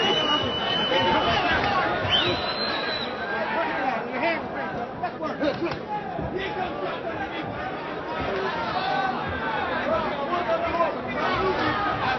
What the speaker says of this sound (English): Crowd whistling for action.